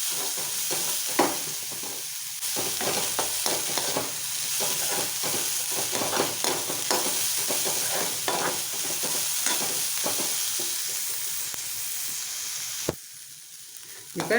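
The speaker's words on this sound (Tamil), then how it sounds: "இப்போ நான் 2 நிமிஷம் வதக்கிட்டேன்" Chopped carrot and broken dried red chilies sautéing in a pan, a steady loud sizzle running throughout with rapid stirring scrapes layered on top, ending in a brief quieter moment.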